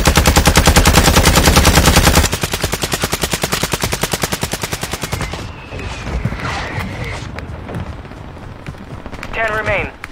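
Video game gunfire in a battle-royale endgame: rapid automatic bursts crack loudly and continuously, then slower shots follow before fading into scattered effects and whistling tones, with a player's voice talking over the action.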